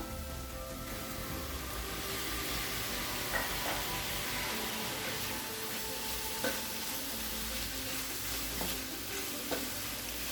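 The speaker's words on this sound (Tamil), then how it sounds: "அரைச்சி வச்சுருக்க தேங்காய் சீரகத்தை இதில் சேர்த்துக்கலாம்" Cabbage masala with ground coconut and cumin being stirred in a hot pan, a steady soft sizzle running throughout with occasional scraping clicks of the spoon against the pan, close and alone without talk.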